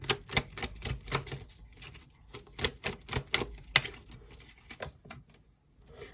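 Playing cards are slotted back into a deck in a quick run of crisp, papery clicks and taps, dense at first and then thinning out to scattered flicks before going quiet.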